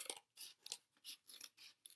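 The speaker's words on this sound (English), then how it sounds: "to get your scissors all the way through" Scissors snip around the outline of a paper circle for a dream catcher craft, a series of short crisp cuts in an uneven rhythm, close and clear with no talking.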